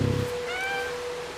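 A cat meows once in the video game Stray, a clear rising-and-falling call that rings out after a brief low thump, with a steady hum underneath.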